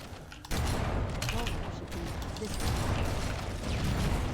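Gunfire from the video game Halo rattles in a busy burst of rapid shots and mechanical clatter, starting abruptly and continuing loudly throughout.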